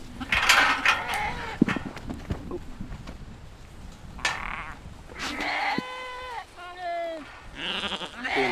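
Sheep bleat during shearing, with several wavering cries in the second half over a busy shed background with clatter and voices.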